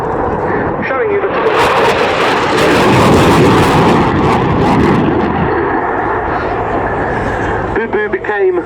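A Dassault Rafale fighter jet roars through a fast pass at an airshow, a loud, sustained broadband blast swelling and fading over several seconds before a voice starts talking near the end.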